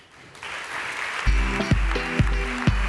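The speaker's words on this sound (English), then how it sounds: "Please give an incredible warm round of applause to the director of the Tara Foundation" Audience applause at an ocean-focused sustainability conference, starting faint and swelling. A thumping walk-on music beat with heavy bass kicks enters partway through and plays over the clapping.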